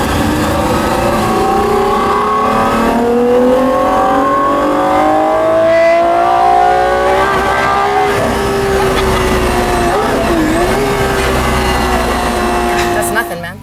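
A Gordon Murray Automotive T.50 with its lightweight engine revs high in a long, loud sweep. The rising harmonic whine climbs steadily, briefly dips and then holds near the top. There is no talking in the clip.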